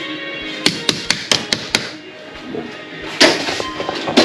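A hammer taps a red vent cap onto a car battery during a VW Touareg battery replacement, giving a quick run of six sharp close knocks followed by a few louder, busier strikes.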